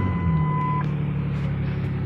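Door-ajar warning chime on a 2006 Ford Ranger, a steady electronic tone that holds for under a second and then cuts off, over the constant rumble of the truck's idling engine.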